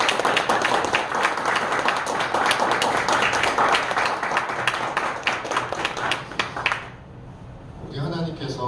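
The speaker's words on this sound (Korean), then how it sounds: "우리 하나님께 감사의 박수 한번 올려드립니다" A church congregation at a Sunday service applauds in thanks, loud sustained clapping for about seven seconds that stops abruptly, followed by a voice speaking.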